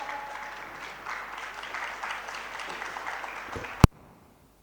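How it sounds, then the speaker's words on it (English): Audience applause welcoming a speaker on stage at a conference inauguration: a steady wash of many hands clapping at moderate distance, ending with one sharp thump before a sudden drop to near silence. "A great applause."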